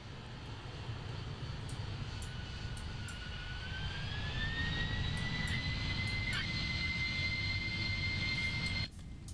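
Boeing 747-400 jet engines in the X-Plane 12 flight simulator, a loud steady roar with a rising whine that climbs and then holds, continuous for most of the stretch before dropping off sharply near the end.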